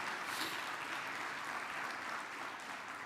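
A church congregation applauds at a family worship service, a steady wash of clapping that sounds fairly distant and soft and keeps an even level throughout, with no one speaking over it.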